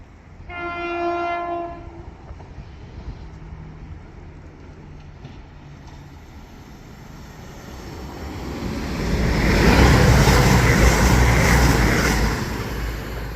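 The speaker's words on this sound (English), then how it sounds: "Now passing through is a cross country service from Plymouth to Edinburgh." A CrossCountry passenger train from Plymouth to Edinburgh passes through Meadowhall station, sounding a two-tone horn at the start, then rumbling and roaring louder as it rushes past at close range.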